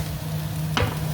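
Chicken wings coated in a soy sauce glaze sizzle in a frying pan, a steady close hiss with a brief louder burst of stirring partway through.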